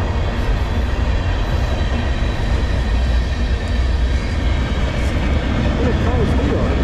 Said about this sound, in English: Chug an eastbound, CSX M404.